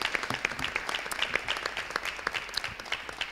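An audience at a Murcia Spring Festival event in Cartagena breaks into applause: dense, steady clapping from many hands, fairly close and even throughout.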